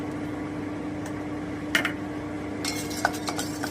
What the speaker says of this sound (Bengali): আমি সমস্ত গরম মশলাগুলোকে একটু ভেজে নিচ্ছি আমি কিন্তু শুকনো কড়াইতে এগুলো ভাজছি